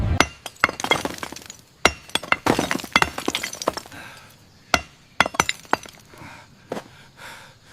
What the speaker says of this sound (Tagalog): Baka kaya rang basagin ng malaking martilyo.